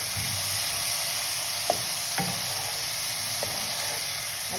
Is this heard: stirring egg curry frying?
yes